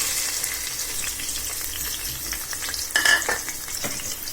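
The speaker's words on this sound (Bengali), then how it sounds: "এবার কেটে রাখা পেঁয়াজ রসুন কাঁচামরিচ দিয়ে দিচ্ছি।" Chopped onion, garlic and green chilli frying in oil in a cooking pot, a soft steady sizzle with a brief clink and stir partway through.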